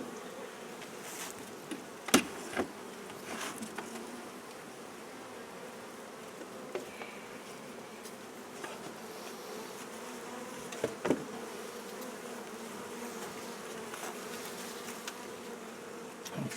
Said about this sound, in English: the bees are going around the back now to get in to the top box